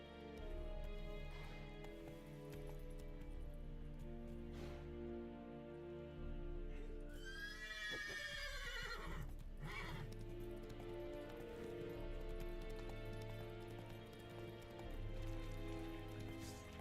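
A horse in The Witcher 3 video game lets out a long, loud neigh midway, followed by a shorter whinny, over steady hoofbeats and layered game music.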